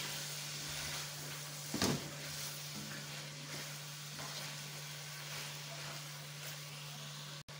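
Biryani masala being stirred in a pan with salt, giving a soft, steady sizzle close by, with a brief scraping stir near the start and a constant low hum beneath.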